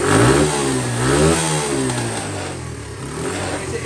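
A 2015 Lifan Pony 100cc motorcycle engine revs and accelerates up close, its pitch rising and dipping in a loud, buzzing drone that continues steadily throughout.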